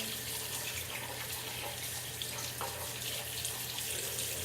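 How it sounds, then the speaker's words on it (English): Running water from a tap rinses the scrubbed parts of a Thompson Machine ISIS22 suppressor, a steady faint splashing stream with no voices. "Pretty basic, just scrub it down, scrub the threads down, rinse it off."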